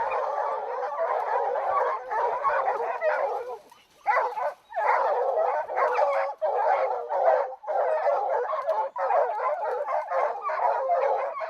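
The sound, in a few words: hunting dogs barking at a treed caracal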